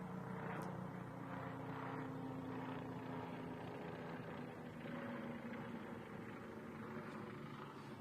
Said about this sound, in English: I'm going to let this plane pass.